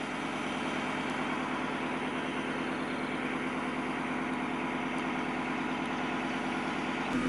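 A narrowboat engine idles steadily with a constant low throbbing chug, close and unbroken throughout, with no voices.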